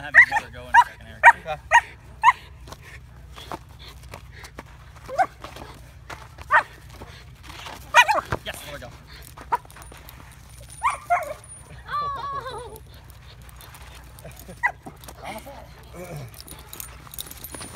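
A young puppy whimpers and lets out small yips and barks, close by, alongside keys jangling and people talking.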